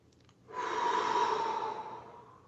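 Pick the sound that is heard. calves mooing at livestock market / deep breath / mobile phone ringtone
deep breath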